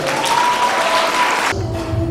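Audience applause at a Polish school celebration, a dense burst of clapping filling the room for about a second and a half before it cuts off, followed by a quieter low hum.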